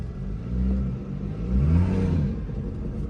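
A BMW 340i engine idles high with raised revs, a steady low rumble that swells twice in gentle surges, close and continuous with no talk.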